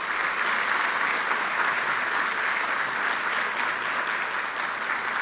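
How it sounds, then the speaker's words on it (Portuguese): A large audience applauds women ahead of International Women's Day at a talk by Minister Augusto Nardes, a dense, steady wash of many hands clapping throughout, loud and sustained without talk. "peço aos homens uma salva de palmas às mulheres"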